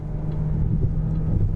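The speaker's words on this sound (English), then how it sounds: "So let me slam on that accelerator." A 2018 Hyundai Tucson SEL Plus AWD under hard acceleration, its engine giving a steady, loud, low droning rumble that holds throughout with no talk over it.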